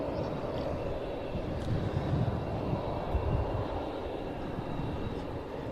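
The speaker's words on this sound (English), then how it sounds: "picking up the next aircraft in this series to land" Aircraft arriving to land at the Royal International Air Tattoo air show, including Italian Alpi Aviation and Tecnam types, heard as a steady broad engine rumble and roar that stays fairly even in loudness throughout.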